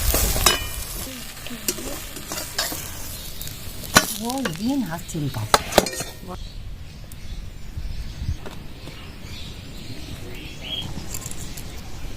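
Panch phoron and dried red chillies hit hot oil in a kadai, a bright crackling sizzle with spoon scrapes and stirring clatter, strongest at first and then settling to a softer fry.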